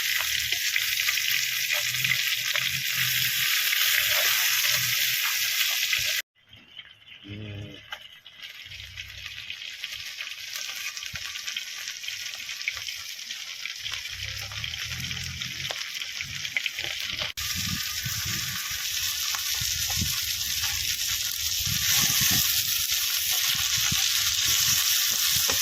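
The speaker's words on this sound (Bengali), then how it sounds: "এবার আমরা এই দেখেন সরপুটি মাছটা ভাজতে নেবো।" Fresh sarputi pond fish fry in a hot wok, a loud continuous sizzle that cuts out abruptly, then builds back up as frying resumes, with occasional rattles of a wooden spatula close by.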